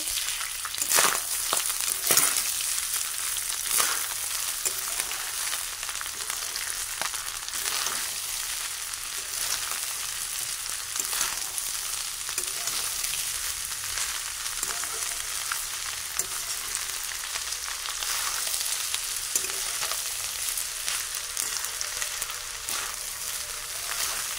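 Fried rice being mixed in a hot pan with powdered sugar just added, giving a steady, moderately loud sizzle with scattered stirring scrapes throughout, no voices.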